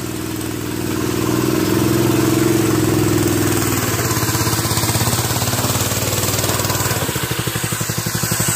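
A homemade go-kart (cross kart / mini buggy) engine revs steadily on throttle, a loud, continuous buzzing drone close by that swells after the first second and holds with slight pulsing.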